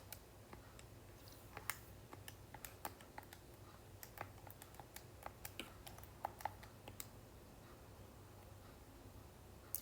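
Fingers tapping numbers into a calculator keypad while working through final exam review math problems: a quiet, irregular run of light plastic clicks spread across the clip over a low steady background hum.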